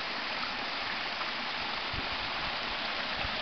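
Water flowing in a stream at an off-grid cabin in Missouri, a soft, continuous hiss and splash of running water with occasional low burbles, fairly faint and with no talking.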